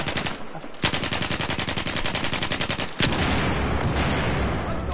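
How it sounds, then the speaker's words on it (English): Automatic gunfire in the Battlefield video game, a loud rapid stream of shots in a tight rhythm, briefly pausing before another sustained burst, with no talking. "You can shoot him through this little bit of mesh, man."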